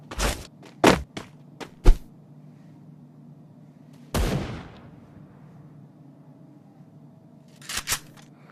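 Gunfire in the mobile shooter Free Fire: several sharp, close shots in quick bursts, a louder blast around the middle, then a final pair of cracks, with quiet game ambience between them.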